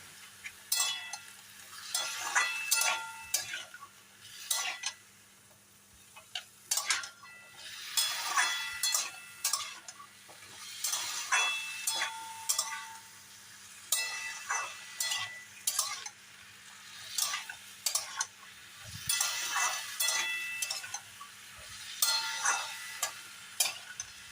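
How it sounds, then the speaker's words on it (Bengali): Potatoes seasoned with salt and turmeric fry in a pan, a low sizzle beneath repeated bursts of scraping and clattering as a spoon stirs them at regular intervals. The sound is close and fairly quiet, and nobody talks. "এবার লবণ এবং হলুদ দিয়ে আলুটাকে খুব ভালোভাবে ভেজে নিতে হবে।"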